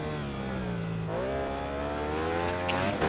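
A racing motorcycle engine in the RIDE 4 video game, a Ducati, holds a loud steady high-pitched whine that shifts down and then climbs again as it revs through gears, with no talking.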